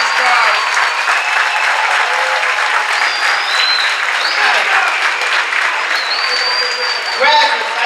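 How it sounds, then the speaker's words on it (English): Audience applause at a charter school's first-ever commencement, a steady, dense clapping from a large crowd sustained for about eight seconds, with scattered cheers and whoops rising over it. "give these graduates a round of applause"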